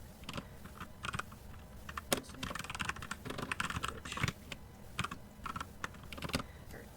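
Close computer keyboard typing while writing code, a fast irregular run of key clicks with a few sharper spacebar-like hits, alone and fairly quiet.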